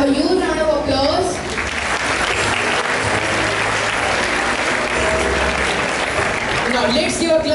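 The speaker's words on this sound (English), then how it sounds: "Audience, can we have a huge round of applause?" A school audience at an English quiz event gives a loud, sustained round of applause, dense clapping from many hands filling the room without a break.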